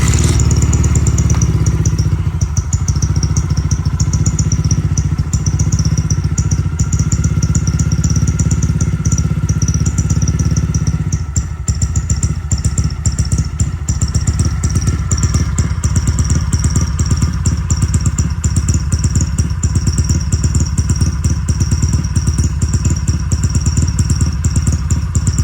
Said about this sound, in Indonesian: Kemudian kita cek hidupnya mesin.